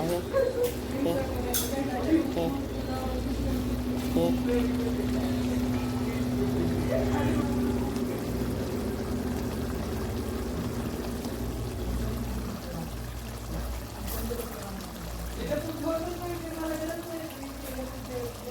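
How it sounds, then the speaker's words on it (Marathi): Water poured into a cooking pot of chicken biryani with rice and masala, a steady gurgling pour under someone talking, with kitchen sounds around. "आता टाकायला लागले पाणी थोडं"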